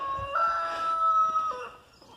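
A single rooster-like crow with a long, sustained tonal call, loud and close, with faint clucking from a flock of Leghorn hens in the background and no talking.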